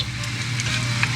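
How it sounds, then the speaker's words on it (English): Butter with salt and cinnamon sizzles in a pot as it is stirred, a steady close frying hiss with faint scraping of the stirring. "Just stir this around to get the butter to melt and get it to heat up."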